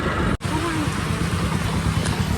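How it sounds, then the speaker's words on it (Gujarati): Rain begins falling outdoors, a loud, dense, steady hiss of drops that continues without letup apart from one very brief dropout near the start. "વરસાદ આવી ગયો"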